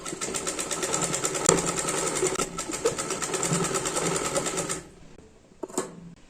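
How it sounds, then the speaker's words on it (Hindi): Domestic sewing machine stitching joined fabric strips and shoulder seams of a kurti, a fast, even rattle running close for about five seconds before stopping, followed by one brief burst of stitching. "सिलाई लगा देते हैं।"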